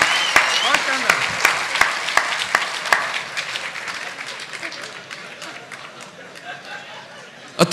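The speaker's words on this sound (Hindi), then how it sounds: "और तालियों का शोर और बढ़ेगा" Scattered claps and applause from an audience at a poet's satirical recitation, sharp hand strikes over a fading crowd murmur, with a voice talking beneath.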